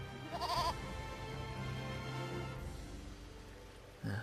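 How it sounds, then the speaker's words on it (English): Goat bleating in the Eternal Sonata video game, a few wavering bleats near the start over steady game ambience, with a brief louder burst at the end. "Please, Mr. Goat."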